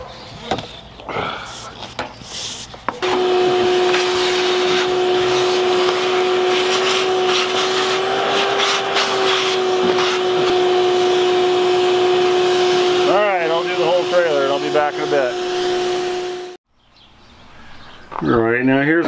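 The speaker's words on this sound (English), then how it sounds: "I think it's time for the vacuum" A vacuum cleaner drones loudly and steadily while cleaning out the interior of a 1959 Cadillac DeVille, starting abruptly and running for several seconds before cutting off, with speech in the shop before and after.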